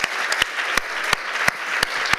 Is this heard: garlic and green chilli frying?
no